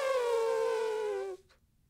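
A human voice imitates an elephant's trumpet call with one faint, sustained, slightly falling nasal tone that cuts off after about a second and a half.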